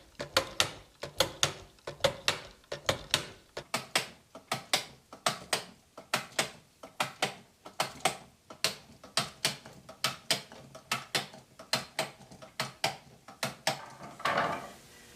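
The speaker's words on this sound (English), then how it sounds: "this is a series of simple machines all acting together as a compound machine to perform a simple task" Wooden compound machine of linked simple machines driving a flywheel: a steady, rhythmic run of sharp clacks and ratcheting ticks, close and evenly paced, roughly two per second, with no talking.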